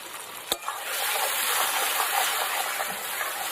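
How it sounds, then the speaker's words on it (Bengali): Onion, ginger-garlic paste and chopped tomato fry in a pan, giving a steady broadband sizzle with a sharp tap near the start and faint stirring scrapes, close and continuous. "সব কিছু একেবারে ভালো করে ভেজে নেব।"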